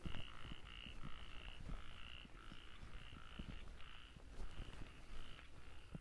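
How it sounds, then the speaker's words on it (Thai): Frogs croak at temple grounds in the rainy season, a faint distant chorus of rhythmic, repeating calls over a low steady background. "ได้ยินเสียงกบร้อง"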